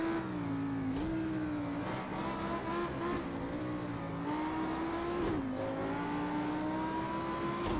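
Audi R8 road car engine in Project CARS 2 at Bathurst, revving hard and steadily through the whole stretch, with a brief dip and pitch change at a downshift to fourth before climbing again, loud and close throughout.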